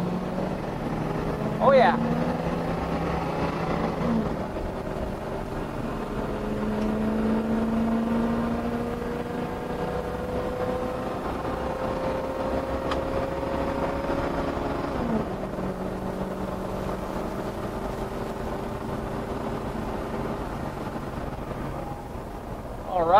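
A 1996 Winnebago Adventurer 34 class A motorhome accelerates at full throttle up a highway exit ramp, its engine droning and rising through gear shifts under steady road and wind noise, with a brief spoken remark.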